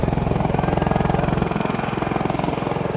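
A CV-22 Osprey tiltrotor flies at an airshow, its loud, continuous rotor throb beating in a rapid, steady rhythm with a heavy low drone, close and unbroken throughout.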